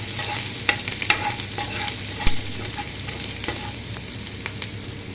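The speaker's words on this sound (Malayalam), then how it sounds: "പച്ചമുളകും വേപ്പിൻ്റെയും കൂടെ കുനുകുനായിട്ട് അരിഞ്ഞതാണ് ഇതിട്ട് കൊടുക്കുക" Finely chopped green chillies and curry leaves sizzle in a hot frying pan for masala dosa filling, a continuous close frying hiss with scattered scrapes and clicks of stirring, and no voices.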